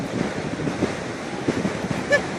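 Ocean waves wash up on a beach in a soft, continuous surf wash mixed with wind buffeting the microphone.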